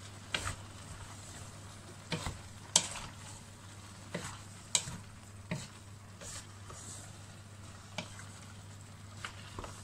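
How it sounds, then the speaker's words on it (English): Pisto vegetables including aubergine being stirred as they fry in a pan, a soft continuous sizzle broken by several scraping stirs and spoon clacks at irregular intervals, close and fairly quiet. "give it a nice stir"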